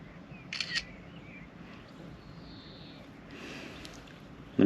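Phone camera shutter click, triggered by a Siri shortcut for a selfie outdoors, one short crisp snap near the start, then quiet ambience with a faint tone and a soft thump at the end.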